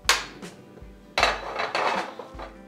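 A metal frying pan being handled in a home kitchen before vegetable oil goes in: a few sharp clanks and knocks of metal on metal and the stovetop, spaced apart with brief quiet gaps, close and fairly loud.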